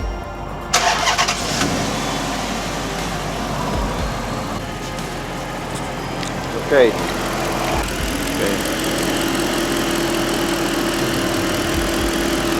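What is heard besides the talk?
2006 Chrysler 300 engine starting and idling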